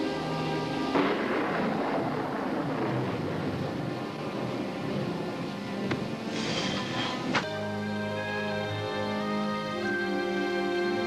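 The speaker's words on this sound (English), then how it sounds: "It's only a little storm." Thunder from a small storm rumbles and cracks over a loud, dense background of music, with a sharp crash partway through and continuous rolling noise, no talk.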